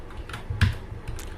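A single computer keyboard Enter key press while working in an Excel spreadsheet, a sharp, close click standing out among a few fainter key taps, with no talking.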